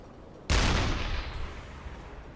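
A high-explosive deck gun shell slams into a cargo ship in the submarine game UBOAT: one sudden loud blast with a deep low thud, then a rumbling roar that slowly fades over about two seconds.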